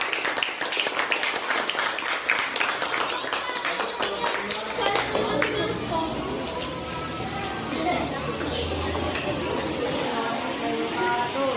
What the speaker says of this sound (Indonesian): kalau tidak ada tanggapan, kita beri tepuk tangan